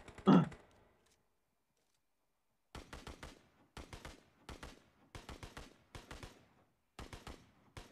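Rapid bursts of rifle fire in the PUBG video game, short clusters of sharp cracks fired in quick succession after a quiet pause, fairly close and crisp, with one soft thud near the start.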